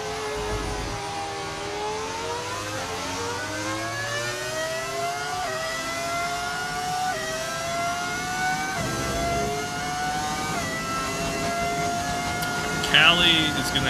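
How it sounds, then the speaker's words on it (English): In the F1 25 video game, a V10-engined Formula 1 car screams through rising revs with repeated upshifts, a continuous high-pitched whine climbing in pitch, while a player talks over it. "Those cars sound so fast. That's just the beauty of the V10 engine"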